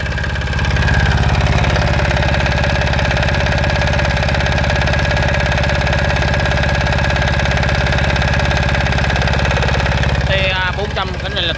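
A Yanmar L40 diesel engine idles steadily and loud throughout, its even knocking rhythm constant, with a brief disturbance near the end.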